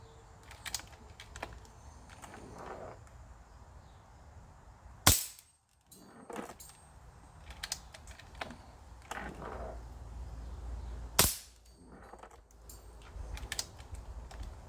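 An Air Venturi Avenger .177 air rifle fires on an outdoor range, giving sharp dry cracks amid quieter mechanical clicks, with two especially loud, close shots standing out.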